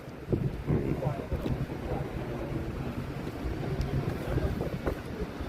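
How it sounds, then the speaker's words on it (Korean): Steady wind buffets the microphone in Dongpirang, a hillside mural village above Jungang Market in Tongyeong, as a constant rushing roar beneath occasional voices. "그래도 바람 시원하다"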